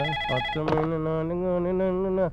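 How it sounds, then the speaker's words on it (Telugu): A mobile phone ringtone rings loud and close in a Telugu film scene, playing a bright electronic melody of sustained tones that shift pitch, with no voices, for about two seconds before cutting off. "ఫోన్ రా. ఎత్తు."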